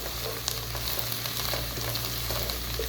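Onions frying in a pan for palak gosht, a steady close sizzle with soft crackles and occasional stirring taps throughout.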